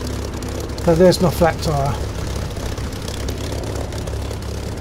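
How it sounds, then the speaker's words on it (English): A propeller aircraft engine in the DCS flight simulator game drones steadily at low pitch throughout, while someone talks briefly over it near the start. "Nice, lovely sound, that aircraft."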